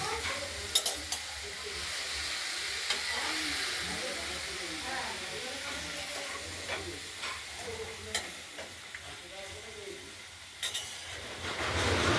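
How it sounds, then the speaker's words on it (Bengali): Vegetables for shukto, including green banana, bitter gourd, red potato, carrot and drumstick with turmeric, sizzling in a pan while being stirred, with a steady frying hiss and occasional sharp scrapes and clinks of the spatula throughout. "এবার একটু নাড়াচাড়া করবো।"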